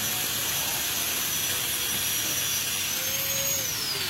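An angle grinder smoothing weld spatter marks on iron screams continuously at close range, a loud, dense, high-pitched abrasive whine with a slight pitch drift and no pauses.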